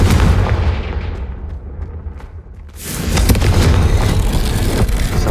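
A Confringo blasting spell explodes in Hogwarts Legacy, a loud booming burst that decays into rumble, followed by a second heavy blast and sustained roaring crackle.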